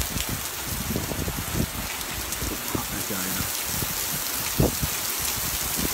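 Heavy thunderstorm rain pouring down in Haditha, Anbar, a dense steady hiss of drops spattering on surfaces with scattered louder splashes, and a voice speaking at times.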